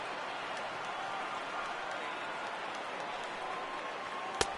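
A sold-out crowd of 41,800 rising and cheering at a Flushing ballpark in MLB The Show 18 during a World Series game against the Yankees, a steady roar of applause and crowd noise with a brief sharp clap near the end.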